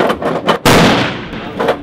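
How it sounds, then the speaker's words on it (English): A SCAR combat assault rifle fires outdoors, with a few quick sharp reports and then one big close crack that rings out into a long decaying echo. "First time ever shooting a gun."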